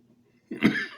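One harsh cough breaks the near silence, close and fairly loud, with a brief raspy tail.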